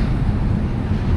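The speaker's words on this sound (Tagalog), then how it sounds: "Mahangin, no?" Wind blowing along Dolomite Beach on Manila Bay during the habagat monsoon season, a steady low rumbling gust buffeting the microphone with no clear breaks, near and moderately loud throughout.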